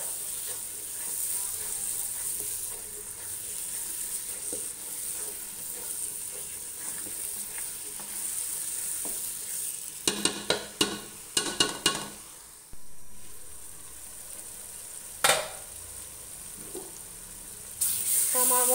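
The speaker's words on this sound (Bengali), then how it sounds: "আবারও বলছি, মশলাগুলোকে ভালোভাবে কষিয়ে নিতে হবে।" Spice masala sautéing in oil for a meat curry, a steady close sizzle through most of the stretch, broken midway by a burst of sharp spoon scrapes and clinks against the pot, then a quieter sizzle with a few more knocks.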